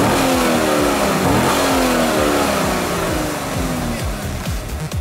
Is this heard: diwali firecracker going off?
no